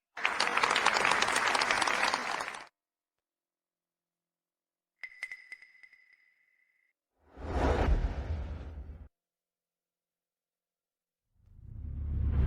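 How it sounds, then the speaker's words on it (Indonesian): Wedding guests applaud to welcome the bride's mother in three loud, full bursts of clapping, separated by silences and a short swooshing chime effect. "berikan tepuk tangan yang paling meriah, untuk menyambut ibu pengantin hari ini, Ibu Jiangzi, untuk masuk"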